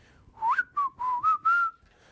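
Someone whistles a tune clearly and close up, a short melodic phrase of about five notes with no voices.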